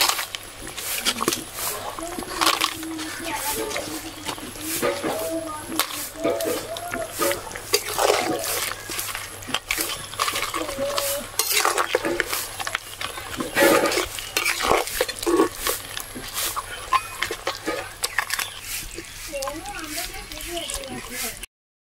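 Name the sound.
papads added to pan and stirred for kalia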